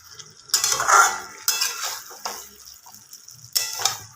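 A spoon scrapes and stirs Kashmiri chicken in a pot, several bursts of clattering metal-on-pot scraping with soft sizzling between, close and alone.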